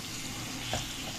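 Butter melting in a pan over cooked, dried-out taro greens, giving a soft, steady low sizzle with a faint bubbling pop near the middle, fairly quiet throughout.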